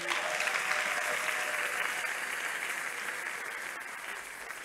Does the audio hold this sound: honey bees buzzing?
no